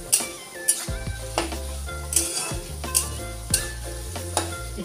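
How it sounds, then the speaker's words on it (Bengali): Fenugreek seeds fry in hot oil with jute leaves and onion, giving a steady sizzle with sharp utensil scrapes and clinks every second or so, set under melodic background music. "মই ইয়া মিঠি গুটিখিনি দি দিম ইয়াতে আৰু এইখিনি আপোনালোকে একেবাৰে কুৰকুৰিয়া নহোৱালৈকে ভাজি থাকিব"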